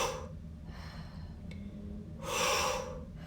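Two airy breaths during a yoga twist in a prenatal-friendly vinyasa flow class: a short exhale at the start and a louder, longer exhale near the end, close to the mic over a steady low hum.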